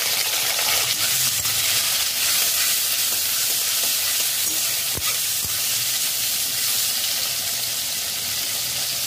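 Chopped tomato sizzles loudly in about three tablespoons of oil with chopped green chilli, whole cumin and whole garam masala, a steady close hiss with faint stirring scrapes and no talk.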